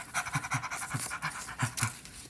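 A pet dog pants in quick, rhythmic breaths close by, steady and moderately loud with no talking over it.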